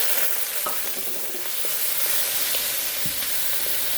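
Shrimp frying in a hot pan give off a loud, dense, continuous sizzle with faint stirring scrapes, close and steady throughout, with no voices.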